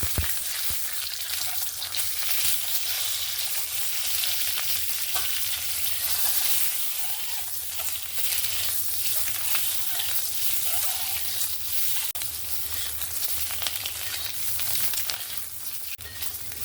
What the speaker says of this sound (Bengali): তেলটা গরম হয়ে গেছে, সামান্য একটু লবণ দিয়ে দিলাম। আমি হলুদ কিন্তু ব্যবহার করব না।